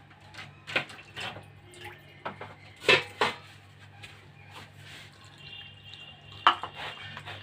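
A spoon stirs a cauliflower spice mixture of greens, garlic, cumin, coriander, water, salt and harissa in a bowl, making scattered clinks and wet scraping knocks against the bowl.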